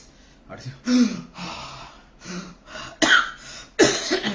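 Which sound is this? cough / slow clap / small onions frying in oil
cough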